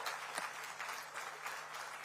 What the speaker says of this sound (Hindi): जोरदार तालियों के साथ उनका अभिनंदन करें।